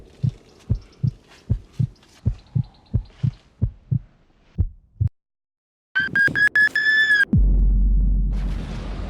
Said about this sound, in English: And once again we have the heartbeats creating tension. as is a norm in most horror.